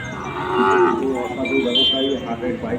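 Bulls bellow at a busy cattle market in Chandaikona, a long, loud, close moo that swells and wavers over a murmuring crowd, with a voice talking nearby.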